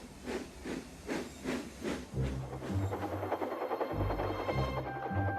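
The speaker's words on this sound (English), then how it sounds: "Thomas puffed across the countryside." Thomas the Tank Engine, a steam locomotive, puffs across the countryside: a run of rhythmic chuffs gives way to a rattling rumble with steady hissing steam, moderately loud and alone.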